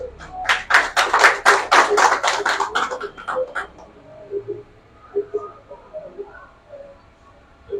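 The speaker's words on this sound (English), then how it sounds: "Clap for yourselves." A short burst of audience applause in a hall in Clara Town, Montserrado County, Liberia, dense and lively for about three seconds, then fades into quiet with faint scattered sounds.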